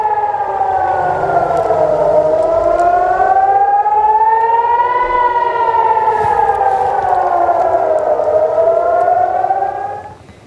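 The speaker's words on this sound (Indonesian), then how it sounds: "Warga Tel Aviv panik saat sirine peringatan serangan berbunyi." A loud air raid warning siren in Tel Aviv wails steadily, its pitch slowly rising and falling in long sweeps, then fading out at the end.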